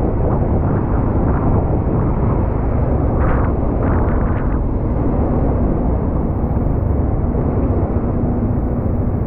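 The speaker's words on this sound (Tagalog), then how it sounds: "ang lakas ng agos ng tubig oh" A strong river current rushes loudly and continuously beside a bridge construction site in rainy weather, a broad roaring wash of water that stays steady throughout, with gusting wind on the microphone.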